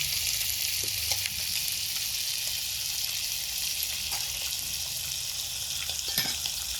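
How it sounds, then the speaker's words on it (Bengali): Small fish frying in hot oil for a Bengali fish dish, a steady dense sizzle with faint crackles, close and continuous with no voices. "মাছগুলো ভাজতে দিলাম"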